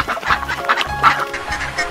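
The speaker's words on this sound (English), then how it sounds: "Duck." A duck quacks in a few quick, close, loud calls in a short burst, with no other sound around it.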